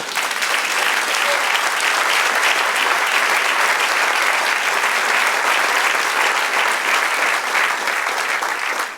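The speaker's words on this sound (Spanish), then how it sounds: "Den un aplauso al Señor" A church congregation claps and cheers continuously, loud and sustained applause filling the room without pause.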